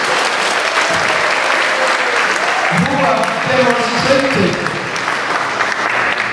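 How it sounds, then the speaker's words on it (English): A group gives a round of applause for facilitators at a training gathering, steady loud clapping throughout while a voice speaks over it. "I want you to join with me to give a round of applause to all our facilitators"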